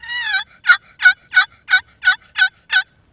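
A wooden box turkey call, freshly chalked with oilless chalk, yelps like a hen: one drawn-out note followed by seven evenly spaced, raspy yelps, close and loud with no talking.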